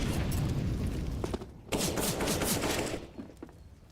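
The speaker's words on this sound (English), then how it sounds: "That's a meaty nade." A grenade detonates in Counter-Strike during a professional match, a loud booming burst with scattered gunfire crackling around it, and then the noise fades out over a few seconds.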